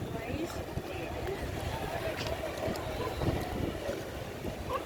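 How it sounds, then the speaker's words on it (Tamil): A fishing boat leaves a fishing harbor on Kasimedu Beach in Chennai, heard as a low rumbling engine under wind noise. Someone talks over it. "அதில் ஒரு போட் மீன் பிடிக்க கிளம்பியாச்சு."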